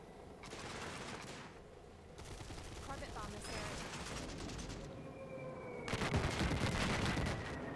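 Airstrike explosions and heavy fire rumble in the zombie survival strategy game Cepheus Protocol, long dense bursts of blasts that swell and build louder toward the end, with someone talking over them.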